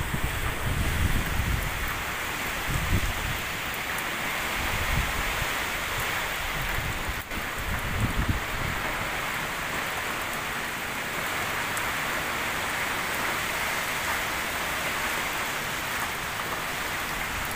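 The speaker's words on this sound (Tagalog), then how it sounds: "Pero sobrang lakas ng hangin niya saka ulan." Heavy rain from Typhoon Ulysses before landfall, a dense, constant roar of downpour mixed with strong gusting wind, loud and unbroken throughout, no voices.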